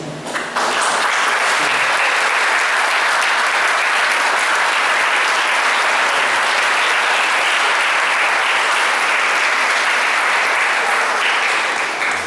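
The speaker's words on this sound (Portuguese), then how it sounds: "Gostaria que todos aplaudissem" A church congregation applauds at the close of a service, with loud, steady, sustained clapping from a large group lasting about twelve seconds before fading.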